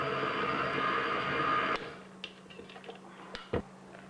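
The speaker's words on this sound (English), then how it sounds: "Turn the mixer to low and beat to combine, making sure there are no pockets of unmixed fruit or cake." An electric mixer beats fruit cake batter on low, a steady dense whir for the first half that cuts off abruptly, followed by quieter handling knocks and clatter.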